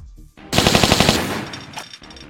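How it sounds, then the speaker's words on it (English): Rapid bursts of pistol fire from Lara's Magnum and automatic pistols in the first two Tomb Raider games ring out loud and close, a quick string of sharp shots fading into a brief tail. "the Magnum/automatic pistols of the first Tomb Raider game and Tomb Raider 2"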